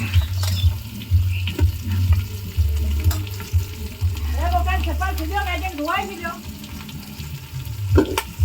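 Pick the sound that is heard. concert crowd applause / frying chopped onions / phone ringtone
frying chopped onions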